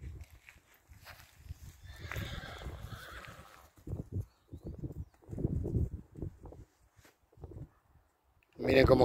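A large, tame overo gateado horse walks with steady hoof clip-clops mixed with a whinny, under ongoing talk, ending in a louder burst of noise.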